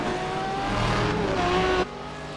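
A race car at Petit Le Mans pulls down pit road, its engine note loud and close with wavering pitch, then dropping abruptly to a lower, quieter drone.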